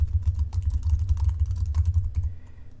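Fingers type steadily on a computer keyboard to fill in a contact form, a close, fast run of key clicks with no talking.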